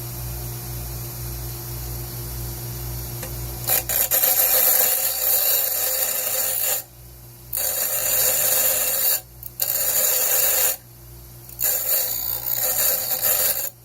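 Coarse-grit sandpaper rubs hard against a wooden bunk bed ladder bracket in steady rasping strokes, broken by several short pauses, close and loud with no talking.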